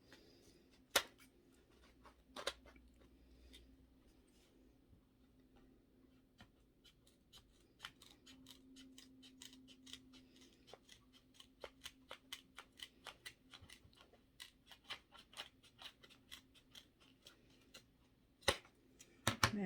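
Scissors trim paint roller foam into a carrot shape, giving a quiet series of small snips and clicks that speed up into a quick irregular run. It is close but faint, with no talking.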